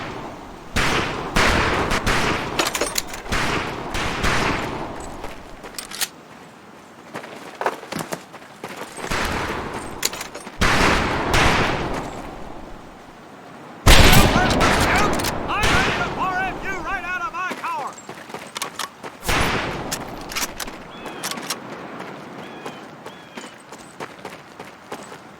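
Rifle and heavier weapon fire on a firing range in the video game Medal of Honor: Pacific Assault, with dense, loud bursts of shots, some sharp isolated cracks, and echoing volleys continuing throughout.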